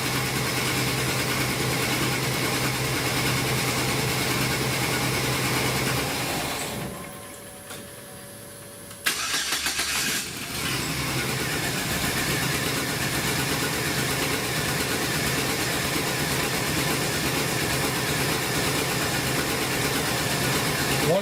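A 2008 Chevy truck engine idles steadily, cuts off briefly for a couple of seconds, then cranks and restarts and settles back into a constant idle hum, close and loud, no voices.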